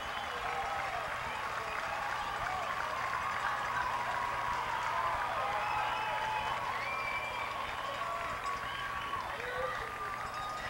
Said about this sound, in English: crowd's going nuts here